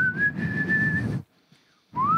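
A person whistles a song, holding a clear, steady tone for about a second, then breaking off into silence before starting a rising note again.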